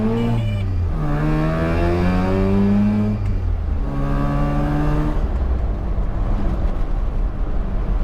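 A 1980 Mazda RX-7 rotary engine revs up in long rising sweeps, loud and close from inside the car, easing off and building again with no talk over it.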